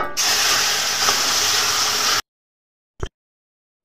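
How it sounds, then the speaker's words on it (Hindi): Milk poured into a hot pan of roasted ground sago makes a loud, close hiss of steam and sizzle that lasts about two seconds, stops abruptly and is followed by silence with two short bursts. "इसमें डालेंगे दूध"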